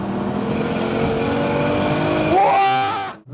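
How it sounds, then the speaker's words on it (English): Nissan Skyline GT-T car engine droning loudly from inside the cabin with a steady, heavy rumble, then revving up sharply near the end before the sound cuts off abruptly. "I'm sitting in a very loud car, so forgive me for shouting, but it's a Nissan Skyline, and it's the GTT version"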